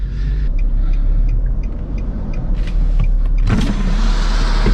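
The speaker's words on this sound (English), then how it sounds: "the Z's all warmed up, and I am excited to get on the road." Stock Nissan 350Z, warmed up and about to set off, with its engine humming low and steady up close, a few short whirring and clicking mechanical noises on top and a louder burst near the end, no voices.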